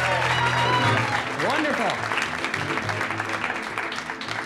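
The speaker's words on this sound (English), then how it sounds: "Give Mike a huge round of applause" A magic show audience at the Chicago Magic Lounge bursts into applause that starts loud and fades over a few seconds, while someone speaks over the clapping.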